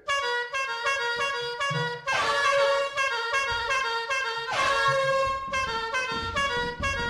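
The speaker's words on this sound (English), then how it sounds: "That's where I found this air horn." A loud, blaring air horn in the video game Lethal Company sounds again and again in long tonal blasts, nearly continuous, with brief gaps between them.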